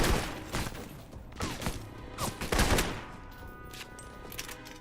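Gunfire in the video game Alpha Protocol comes as a run of rapid shots and short bursts, fairly loud and continuous at first, then thinning to scattered single reports toward the end.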